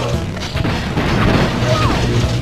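Torpedo explosion in the video game Crash Bash, a loud booming crash with dense low rumble sustained across the whole moment, heavy and close amid chaotic game noise.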